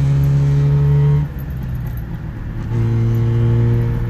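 A small Subaru 360 car engine revs in a steady buzzing drone, dips briefly as the gear changes, then climbs back to a loud sustained whine, heard close from inside the car.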